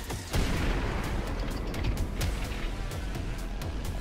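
Rapid bursts of gunfire crackle continuously in CS:GO, dense and loud, like a firefight, with no voices over it.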